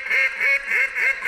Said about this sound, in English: I'll give you the matching duck call